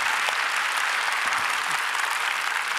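A church congregation applauds graduating missionary trainees at a Friday worship service, producing a thick, even roar of many hands clapping throughout.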